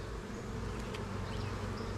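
Honeybees at a nuc hive with comb-building issues hum in a steady, dense buzz close to the listener, continuous and unbroken throughout.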